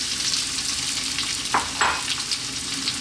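Potatoes fry in hot oil with cumin seeds for a vegetable curry, a steady soft sizzle with a couple of brief stirring scrapes partway through.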